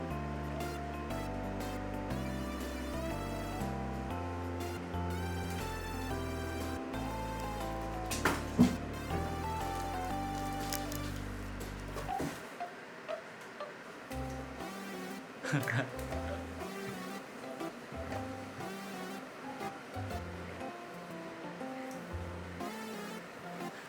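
A circulator fan runs at its top speed setting of 12, producing a steady, rushing whoosh of moving air that at first sits beneath music and then continues over people talking.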